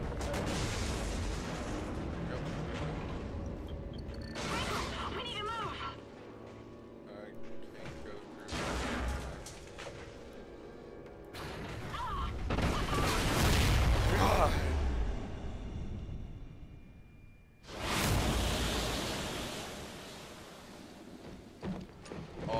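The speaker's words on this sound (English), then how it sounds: "Station detonation. In three, two, one." A space station detonation in Call of Duty: Ghosts brings heavy booming blasts and crashing rumble that surge in waves over about twenty seconds, one big swell in the middle and another near the end, with voices talking in between.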